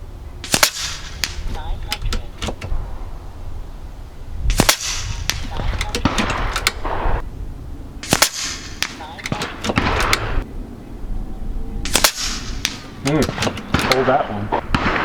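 Kalibrgun Cricket .253 air rifle firing 35-grain slugs at 100 yards, sharp cracks repeating every few seconds, each followed by a short clatter of handling noise.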